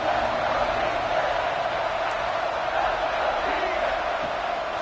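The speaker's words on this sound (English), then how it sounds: "Crowd getting this defense whipped up on 3rd down." A football stadium crowd roars on third down during a Miami versus Ole Miss game, a dense, steady wall of cheering and yelling that holds at an even loud level throughout.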